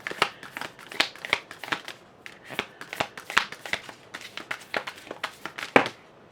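Tarot cards are shuffled by hand, close up, in a fast irregular series of crisp riffling flicks and snaps that carry on steadily throughout.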